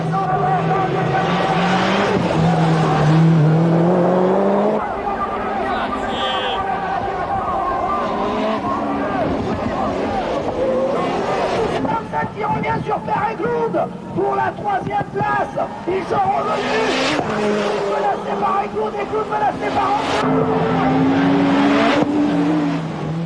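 Rallycross cars from a 1994 French championship race past with loud roaring engines, shifting revs and tyre squeal under hard braking, while a commentator speaks over the noise.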